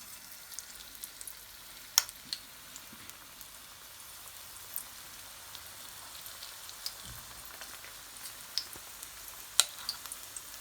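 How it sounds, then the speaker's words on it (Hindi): Spinach pakoras in gram-flour batter frying in hot oil, giving a soft, steady crackle with scattered sharper pops throughout, fairly quiet and close, with no talking. "अब हम डालेंगे पकोड़े बनाने।"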